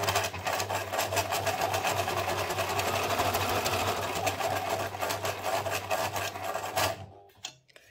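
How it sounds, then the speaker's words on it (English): A sewing machine stitches a spiderweb pattern straight across paper, a loud, fast, even rattle of the needle going without a break for about seven seconds before it halts abruptly, followed by a few soft handling bumps. "Then I sew straight until I reach this edge here."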